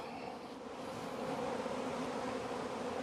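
Honeybees droning steadily around a yard of about 64 beehives during hive splitting for swarm control, a dense continuous buzz of many insects close by, with no voices.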